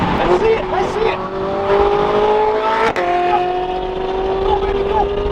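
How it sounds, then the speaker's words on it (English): A Ferrari and a Bugatti Veyron accelerate hard, giving a loud, close engine roar with rising tonal whine and some tire noise. A voice talks over it. "Goodness, that Ferrari sounds so crazy, but we got 4 turbos and we go bye-bye."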